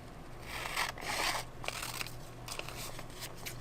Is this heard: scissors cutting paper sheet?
yes